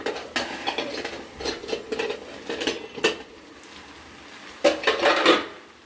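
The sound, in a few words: opening lid and stirring chela fish curry in pan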